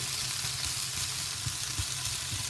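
Potato chunks sizzle and fry steadily in a pan with a few stirring scrapes, a close, continuous crackling hiss with no talking.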